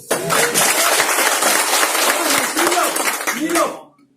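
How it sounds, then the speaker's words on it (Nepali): A crowd bursts into loud, sustained applause, many hands clapping together with a few cheering voices mixed in, then it fades out. "एक जोरदार ताली"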